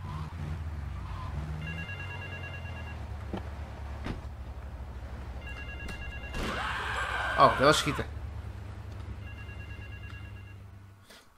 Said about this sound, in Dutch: Ik hoor je even wel een telefoon